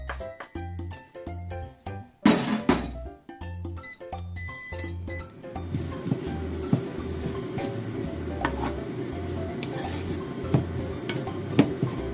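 Shiso leaves and miso stir-fried over medium heat in a pan, with repeated clanking utensil strokes early on, then a steady sizzle under scraping stirs close by.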